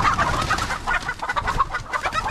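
Guinea fowl in a farm coop give a loud, continuous chorus of harsh, rapid clucking calls, close by and overlapping through the whole stretch with no talking.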